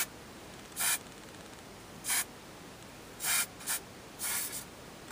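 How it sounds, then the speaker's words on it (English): Stylus Ultime Crystal Shine and Hold laminating hairspray gives five short, soft hissing bursts of fine mist, some in quick pairs, separated by quiet pauses, close and with no voice. "this is called the Stylus Ultime Crystal Shine and Hold Laminating Hairspray"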